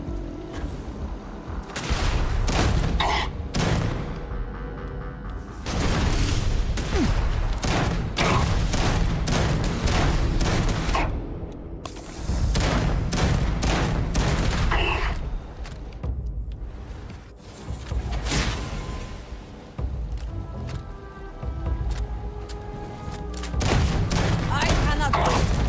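Rapid bursts of gunfire in the space game Starfield, loud and dense across the whole stretch, with short pauses between volleys and a voice talking over parts of it.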